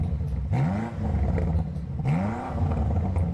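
A BMW car's exhaust sound, piped into the cabin, rises in two revving sweeps, each climbing then easing off, a loud close roar heard without speech.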